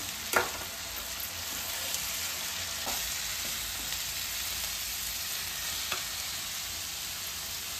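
Pumpkin palya frying in a pan is stirred, giving a steady close hiss of sizzling oil with occasional soft scrapes of the spoon against the pan.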